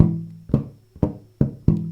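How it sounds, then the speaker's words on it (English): Muted ghost notes plucked on a bass guitar, four short percussive thuds with a brief low ring, spaced about half a second apart, close and fairly soft with no talking. "just a muted thud of a sound that's pretty useless on its own"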